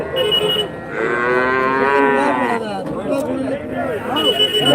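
A long, loud cow moo rises over crowd chatter and background noise at a Friday cattle market in Kundarapalli, Krishnagiri district, India, followed by more lowing mixed with voices.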